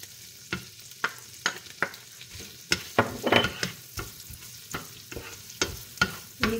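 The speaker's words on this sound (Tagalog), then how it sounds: "Lagay na rin natin yung ating garlic at saka yung ating onion." Garlic and onion fry in olive oil and butter in a pan, a close steady sizzle punctuated by regular stirring scrapes and clacks at roughly half-second intervals.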